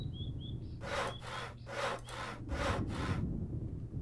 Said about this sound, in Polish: Piłuj drewno, piłuj...